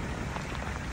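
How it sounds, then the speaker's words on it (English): Heavy March rain pours down on a farm in a dense, steady hiss, loud and continuous with no other sounds. "It is currently pouring rain now."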